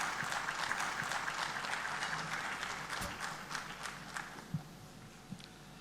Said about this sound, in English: a big round of applause for Avinash Pandey